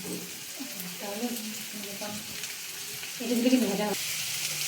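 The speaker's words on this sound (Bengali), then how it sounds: "সমস্ত সবজি যেগুলো কাটা হয়েছে, পেঁয়াজ, সমস্ত কিছু ঢেলে দেওয়া হচ্ছে গরম তেলের মধ্যে।" Chopped vegetables and onions tipped into hot oil and frying, a steady close sizzle that swells louder near the end, with faint stirring and no talk.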